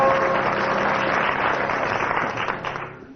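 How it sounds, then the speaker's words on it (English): A studio audience at a 1983 radio comedy panel show applauds warmly, dense clapping that is loud at first and then tapers off and fades out. "Judging from the audience applause"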